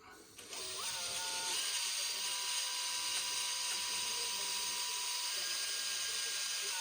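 A power tool drives a screw home and pierces a capsule while fitting a replacement electric water heater. It gives a steady, high-pitched whirring whine with a ratcheting edge, close and continuous after a brief start.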